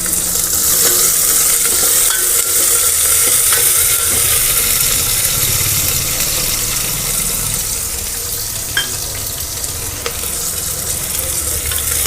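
Chopped onion fries in a pan for South Indian vegetable sambar, a loud, continuous sizzle with frequent spatters, scraping and stirring clicks, close and without talk.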